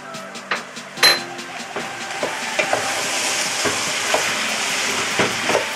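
Bacon, beef and chorizo searing in a hot pan for a bean stew, a steady loud sizzle with occasional stirring scrapes and clinks of a utensil against the pan.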